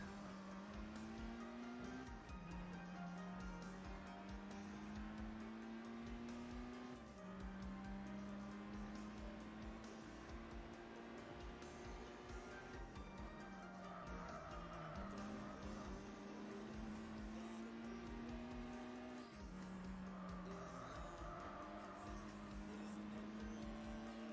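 Racing car engines in the Gran Turismo 4 video game drone steadily and loudly, with the pitch rising through each gear and then dropping at the shifts in a repeating pattern, plus faint tire squeal.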